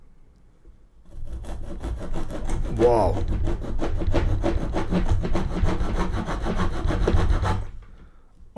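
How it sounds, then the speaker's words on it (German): A small folding saw blade from a pliers-style multitool cuts through wood in a fast, even back-and-forth rhythm for several seconds, close and fairly loud, with a brief exclamation partway through. "machen das Tool wieder zu und schon haben wir eine Säge"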